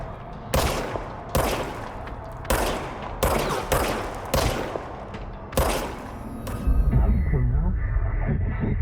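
Gunfire from a handgun in the video game Control, with sharp, loud shots fired in an irregular series of about seven. Heavier rumbling action builds toward the end.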